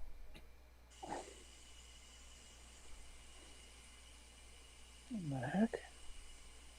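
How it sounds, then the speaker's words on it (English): A faucet runs somewhere in the background, a faint steady watery hiss that begins early and continues throughout, with a brief voice exclaiming nearby. "Sounds like somebody's got a faucet on."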